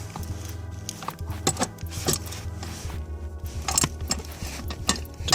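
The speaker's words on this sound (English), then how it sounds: "So I'm using a needle nose pliers." Needle nose pliers working the two nuts off the battery mount bracket of a Mercedes auxiliary battery, giving close, scattered metallic clicks and scrapes over a low steady hum.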